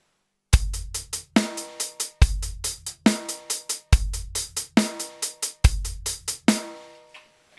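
Basic rock drum groove played on a kit: bass drum and snare alternating under steady sixteenth-note hi-hat, four one-bar repeats, close and loud, ending on a ringing decay.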